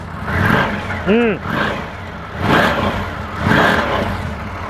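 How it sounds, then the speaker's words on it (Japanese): A 2024 Indian Scout cruiser motorcycle engine rumbles nearby with exhaust surging in repeated revs, rising and falling roughly every second or so, with a brief whistle-like tone early on. "マフラーから出てるエキゾーストの音と このエンジンの駆動するメカノイズ"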